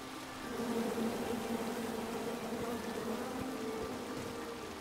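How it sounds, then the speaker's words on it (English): Angry bees buzz from a tree in the video game King's Quest, a steady droning hum held throughout beneath a noisy hiss, with no talking. "Come at me, bees!"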